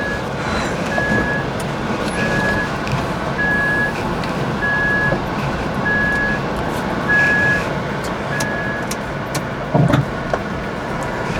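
Evenly spaced electronic reversing beeps, about seven in a row, sound inside an electric car as it backs up, steady over a low road and cabin hum, with a brief knock near the end.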